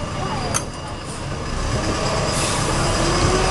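A green Sentosa beach tram rolls along in Singapore, its motor and wheels making a steady, close rumble with faint squealing and a rising hum, while a voice speaks over it.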